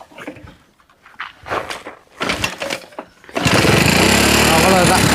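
An old, modified Honda Passion Pro motorcycle starts up after a few seconds of footsteps and handling sounds with someone talking, then its engine runs loud and close in a continuous idle rumble.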